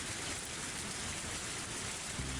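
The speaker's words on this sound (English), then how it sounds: "I just hear rain." Steady rain falling in the Higurashi When They Cry Hou video game, a dense even hiss of drops on a surface, constant and fairly soft with no voices.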